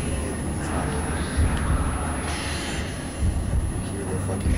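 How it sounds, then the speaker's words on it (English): An airplane passes overhead, producing a steady, broad roaring rumble that holds at a fairly constant loudness with slight swells, and no other sounds stand out. "Hear the fucking plane."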